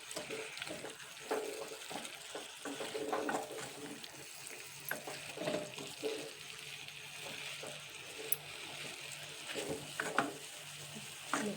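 A wheat-flour breakfast mixture stirred in a pan, with a soft frying sizzle underneath and scattered scraping clinks of the spoon, fairly close and steady, with no talking.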